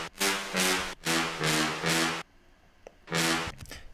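A punchy sampled horn from a sample pack blasts in four rhythmic sustained stabs, drops out briefly, then returns for one more bright, loud hit.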